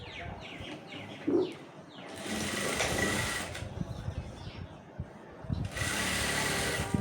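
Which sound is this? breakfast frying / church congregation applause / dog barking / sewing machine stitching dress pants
sewing machine stitching dress pants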